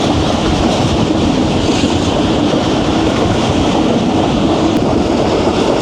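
Jaffar Express passenger train running at speed on rails through Punjab past Dina station, a loud, steady, close rumble with continuous rattling and clatter of the carriages, no talking.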